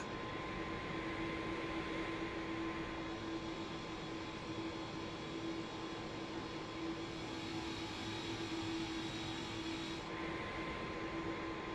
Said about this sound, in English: You can just hear the engines just roar up this roar.